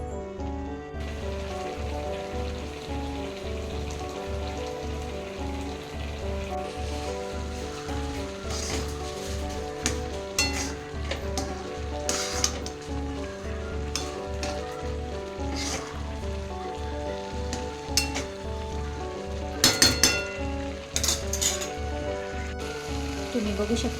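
Carrot halwa in milk bubbles over a high flame, a steady dense sizzling hiss with a continuous low simmering drone and a few brief scrapes and clinks of a spoon near the end.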